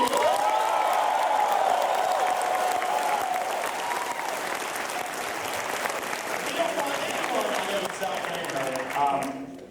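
At a comedy show, the audience answers with a big round of applause mixed with whoops and cheering, loud at first and then settling a little, with voices shouting over the clapping.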